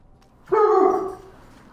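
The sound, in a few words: dog barking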